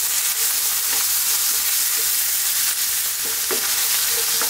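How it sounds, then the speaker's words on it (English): Garlic and ginger paste frying in a pan while being stirred: a continuous sizzling hiss with intermittent scraping clicks of the spoon against the pan, close and steady. "Keep stirring it now."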